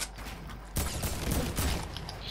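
Rocket gun fire in the Fortnite video game, a sudden loud broadband blast that bursts in after a quieter stretch and keeps roaring with crackling energy for over a second, with no talking.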